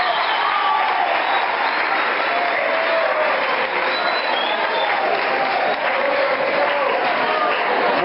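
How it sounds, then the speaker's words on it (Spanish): An indoor audience applauds before a talk, a dense, even wash of clapping from many hands that holds at a steady loudness for about eight seconds, with murmuring from the crowd mixed in. "muchas gracias por los aplausos"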